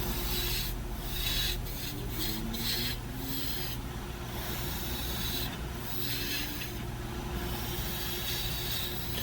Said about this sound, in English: I'm using the spindle gouge, and the lathe speed is about 2500 RPM.